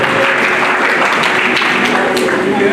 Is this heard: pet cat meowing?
no